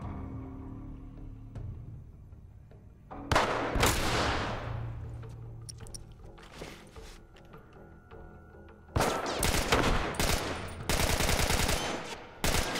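Gunfire in The Last of Us video game: bursts of rapid shots around the four-second mark, then louder sustained volleys later in the clip, close and sharp against a background of game ambience.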